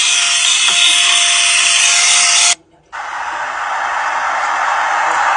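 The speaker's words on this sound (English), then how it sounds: "You can pretty much vacuum the whole carpet with this handy little machine." A Jivoxia mini handheld car vacuum running over carpet makes a loud, close, steady motor whine. It cuts out for a moment, then starts again at a slightly lower pitch.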